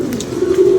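A plain local pigeon gives one short, low, throaty coo that swells toward the end, close and clear, with no talk over it.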